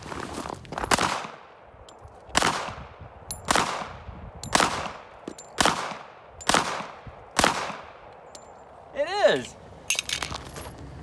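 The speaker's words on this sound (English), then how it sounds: "Let's shoot our lovely Ruger 1911 and see if it's working today." A Ruger SR1911 .45 ACP pistol fired at an outdoor range, with about eight loud, sharp single shots spaced roughly a second or so apart and a brief metallic ring near the end, with no voices.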